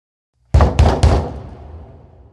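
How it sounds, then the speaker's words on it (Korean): Three loud, close knocks on a door in quick succession, each with a hollow booming thud, the last one trailing off into a short reverberant decay. "누군가 문을 두드리는 소리가 희미하게 들렸습니다"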